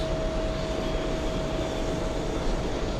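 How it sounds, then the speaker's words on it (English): Delta Airlines Airbus A330 jet taxiing toward the runway, a steady broadband engine roar with a constant high whine, moderately loud and unbroken. "Big A330 Delta Airlines taxiing to the runway for takeoff"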